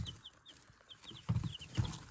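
Soft, high peeping of recently hatched young chicks repeats in quick chirps, with a few low clucks and rustles nearby.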